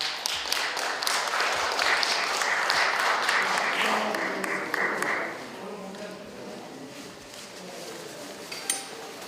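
An audience claps at a broadcaster's opening ceremony, lively applause for about five seconds that thins out to scattered claps and the clink of dishes, with light murmuring in the room.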